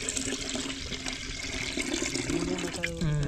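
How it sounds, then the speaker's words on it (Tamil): Water is poured into a pot for cooking Pongal, a continuous splashing and gurgling stream that shifts toward a higher filling tone near the end, with no talk over it. "தண்ணி கலஞ்சி ஊத்திக்கோ"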